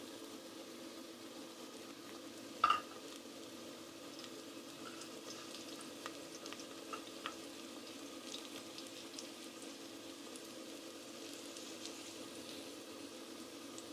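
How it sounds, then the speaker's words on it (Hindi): Steady, quiet sizzling of ginger garlic paste frying in a pan, with a sharp clink of a utensil early on and a few faint scraping ticks afterward. "अब इसमें मैं अदरक लहसुन का पेस्ट जो है वो शामिल कर दूँगी।"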